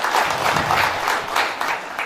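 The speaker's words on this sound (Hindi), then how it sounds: "ताली होना चाहिए एक बार जोरदार" Seminar audience in Madhepura, Bihar, applauding together: dense, steady crowd clapping sustained at a moderately loud level for the whole stretch, without speech over it.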